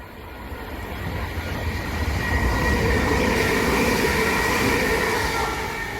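A Southeastern Class 375 or 377 electric train passes a suburban station near Grove Park, its rumble and whine building steadily to a sustained loud roar, then easing slightly at the end, with no one talking.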